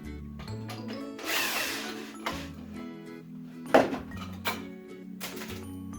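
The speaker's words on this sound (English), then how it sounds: "Let's unclamp it." Clamps are released from a freshly glued wooden segmented ring for a segmented bowl in a workshop. Several loud, separate thunks and clicks land between bursts of rattling handling, with quieter gaps in between.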